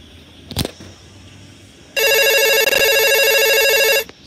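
A phone ringing from an unknown number in a short film, a loud, steady electronic trill held for about two seconds without pause, close and alone after a brief knock or click.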